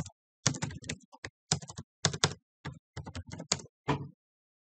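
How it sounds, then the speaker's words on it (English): Close, crisp keystrokes on a computer keyboard come in short irregular bursts with brief pauses between them, clear against silence and with no voice. "I'm just going to type in voice gateway here."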